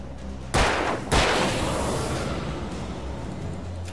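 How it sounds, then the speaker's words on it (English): Two sharp gunshots in Alan Wake, about half a second apart, each with a lingering decay over a low rumble. "if I shoot the guys who aren't converted yet, it doesn't work, or it ricochets back and hurts me"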